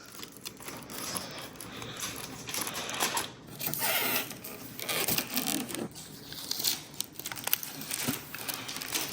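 Plastic and foam packaging crinkles and rustles as it is peeled off a Hisense U6K TV panel, with irregular close crackles, tears and scrapes continuing through the whole stretch, no voices.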